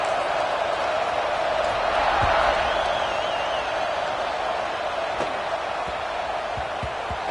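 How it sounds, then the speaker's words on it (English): Football stadium crowd in a video game buzzing after a score, a loud, steady roar of massed voices sustained throughout with no individual speech standing out. "this crowd is buzzing after that last score"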